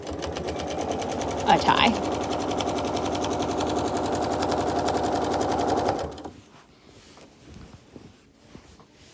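A sewing machine runs a steady, rapid stitching line on a quilt, loud and continuous for about six seconds before stopping abruptly, leaving quiet room sound; a short spoken remark cuts in near the start.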